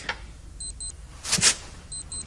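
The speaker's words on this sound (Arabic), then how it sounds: "طل على المنبه اللي انا جبته ده" An alarm clock gives two short pairs of high electronic beeps, with a brief louder rustling burst between them, in an otherwise quiet room with no talking.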